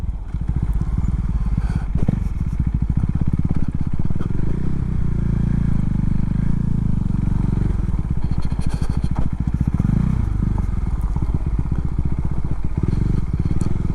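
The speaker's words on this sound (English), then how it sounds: "Oh look, Codger, I'm off-roading, mate." A Husqvarna Svartpilen 401 motorcycle ridden off-road, its engine loud and continuous throughout with revs rising and falling over rough ground, along with clattering and wind buffeting.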